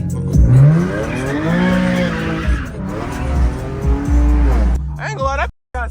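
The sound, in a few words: Infiniti G37 sliding sideways, tires squealing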